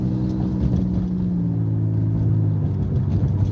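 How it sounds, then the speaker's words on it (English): A car gradually accelerates on the road. A steady, close engine drone and low rumble rise slowly in pitch under constant road noise, with no speech. "we want to gradually accelerate"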